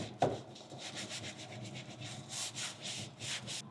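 Natural sponge scrubbing a kitchen sink, a series of soft rhythmic rubbing strokes, close and fairly quiet, following a single knock at the start.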